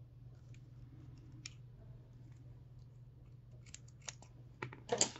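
Scissors snip through the cord of a prayer-bead string, a few small dry clicks and a sharper cut near the end over a low steady hum in a quiet room.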